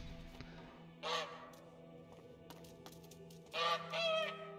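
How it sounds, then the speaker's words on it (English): A goose honks in the video game A Plague Tale, with two loud bursts of nasal honking separated by a quiet stretch of low ambient hum. "Oh my god, the goose is going inside."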